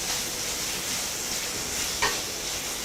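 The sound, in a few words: onions and tomatoes frying in a pan for upma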